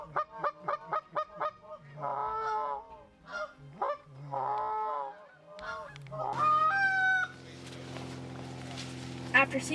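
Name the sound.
waterfowl calling near hunting blind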